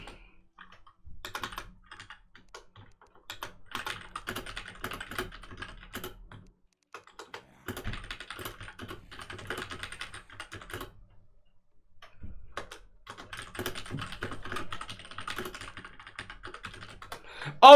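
Someone types on a computer keyboard in bursts of rapid clicking keystrokes, separated by short pauses of near silence, fairly faint and close.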